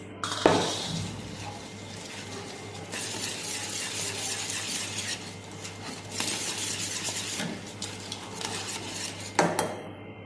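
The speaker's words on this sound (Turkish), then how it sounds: "Şimdi bu malzemelerimizi çırpıyoruz çırpıyoruz." Ingredients for a Cypriot-style baked dessert are whisked in a bowl, giving steady scraping and clinking against the bowl in continuous bursts with brief pauses, close and moderately loud.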